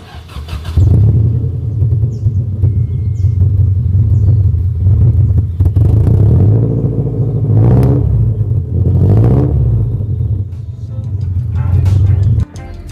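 A 1994 Honda Civic Genio with a 4-1 header, straight resonator and Alpino F01 exhaust, loud deep idling burble close by, rising in a couple of sharp revs before settling back, with no talk.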